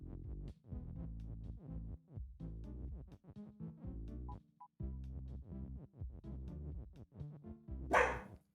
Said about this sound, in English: Sassy dog.